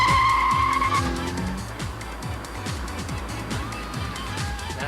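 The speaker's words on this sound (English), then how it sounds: "this extremely pucker motor in a couple of seconds' time will be accelerating because I'll be putting my foot down on the juice pedal" A car accelerates hard on a racing track, engine tone climbing loud and close at first, joined by tire squeal, then settling into a steady lower roar.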